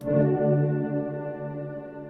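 A held synthesizer chord through Bitwig Studio reverb placed inside the tank effects, reverberant and spacious, loud at first then gradually decaying.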